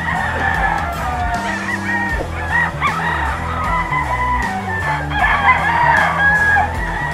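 A sweater gamefowl rooster crows loudly and repeatedly at a busy pet market, its calls layered over other nearby birds and steady crowd noise.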